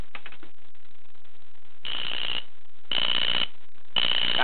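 An FCI fire alarm horn, triggered from a pull station and powered by a 12-volt DC supply, sounds in three loud, steady blasts separated by short gaps, following a faint tone at the start.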